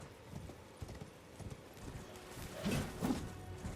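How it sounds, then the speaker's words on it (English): Horse hooves clip-clop in a video game as the character mounts up, a quiet run of soft steps that grows a little louder with a couple of stronger footfalls near the end. "Get on my horse."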